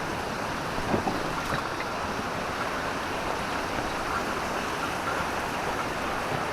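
River water flowing alongside a hiking route, a steady, full rush of broadband noise heard up close, with wind buffeting the microphone.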